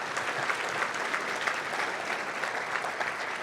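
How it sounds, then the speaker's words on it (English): A room of guests at a fundraising dinner gives a steady round of applause, even and moderately loud throughout with a few sharper claps standing out. "Let's have another round of applause for Essence"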